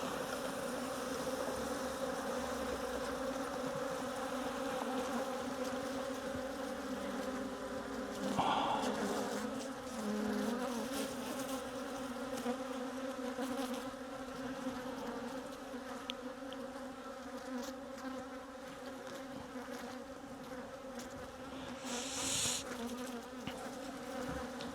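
Korean native honeybees hum continuously at a weak colony revived in an EPP hive, a steady close swarm drone with occasional louder passes from single bees and no voices.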